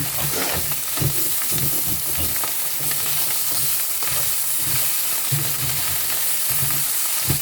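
Filling being stir-fried in a hot pan, a steady loud sizzle with repeated scraping and tossing strokes of the spatula throughout, no voices.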